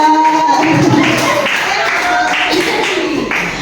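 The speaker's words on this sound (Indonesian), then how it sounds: "Tepuk tangan buat Taslim sama Mama Ani" A crowd claps steadily throughout, a lively burst of applause with some voices mixed in.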